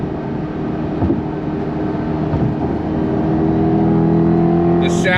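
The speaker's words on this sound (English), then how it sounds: "The sound of the V8 is really, really nice" Deep, continuous rumble of the V8 in a 2024 C8 Corvette E-Ray at a Cars and Coffee meet, holding a loud, steady drone that swells slightly toward the end.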